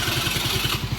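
A motorcycle engine runs at a steady idle, its rapid low putter pulsing evenly and close up for about a second with a hiss of wind or mechanical noise on top.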